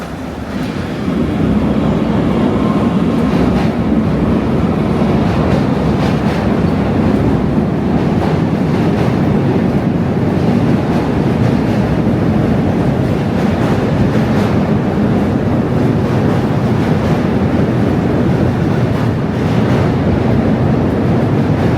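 A loud Manhattan subway train roars steadily for the whole stretch, a dense continuous rumble and rattle close by with no talk over it.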